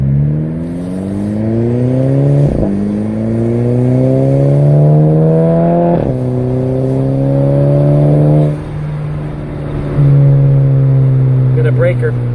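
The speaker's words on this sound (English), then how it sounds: "That the diverter valve is just sounding like it should." A turbocharged car revving through repeated gear pulls, each rising engine whine cut by a sharp diverter valve release, loud and close with exhaust note, the sequence repeating about four times.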